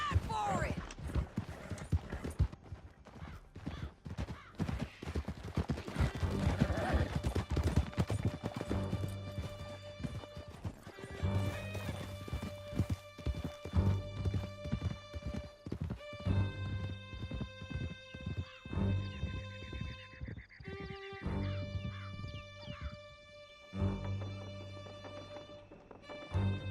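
Horses gallop with steady clip-clop hoofbeats and occasional whinnies during a canyon chase in Red Dead Redemption 2, loud and continuous under game music and voices.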